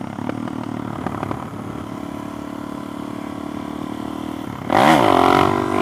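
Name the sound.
Suzuki DRZ 4S motorcycle revving for a wheelie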